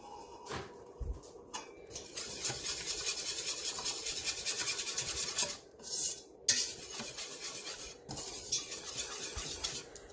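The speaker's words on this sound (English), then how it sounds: "Stir this up really nice because we want to try and get a silky consistency." A whisk stirs butternut squash mac and cheese sauce in a pan, giving a steady close scraping and swishing with brief pauses and a few clinks against the pan.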